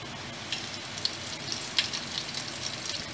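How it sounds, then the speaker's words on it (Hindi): Curry leaves sizzle and crackle in hot tempering oil with the gas turned off, a steady close frying hiss with a few sharper pops. "गैस ऑफ करके करी पत्ता डालूंगी"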